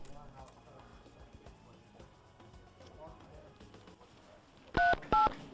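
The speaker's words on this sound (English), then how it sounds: "could I please make my phone call?" Touch-tone telephone keypad dialing, two loud DTMF beeps near the end, heard after a stretch of background voices and noise as a call is placed, apparently from a police station.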